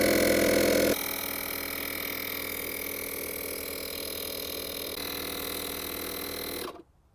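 A portable tire inflator runs on a Toyota 4Runner tire with a loud, steady electric hum and buzz close by, changing pitch after the first second and then cutting off abruptly near the end.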